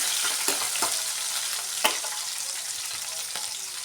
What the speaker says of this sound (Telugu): తాలింపు గింజలు పచ్చిమిర్చి ఆనియన్ కట్ చేసినవి ఇవి కొంచెం ఫ్రై అవ్వగానే